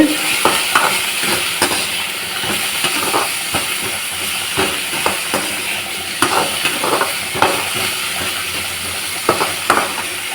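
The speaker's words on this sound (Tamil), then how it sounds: "நல்லா இந்த முள்ளங்கியோட கலர் மாறுற வரைக்கும் முள்ளங்கி வதங்கட்டும்" Radish pieces sauté in a pan with a loud, hissing sizzle close by, punctuated throughout by sharp clicks and scrapes from stirring.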